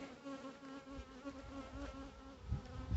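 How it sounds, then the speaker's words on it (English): Honeybees buzz around a beekeeper's head in close, steady droning with a clear wingbeat hum, several insects passing near, with no talk. "these guys, they're buzzing around my head"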